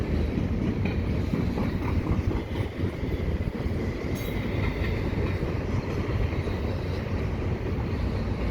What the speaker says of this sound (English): Always good to get a train when you're not really expecting it.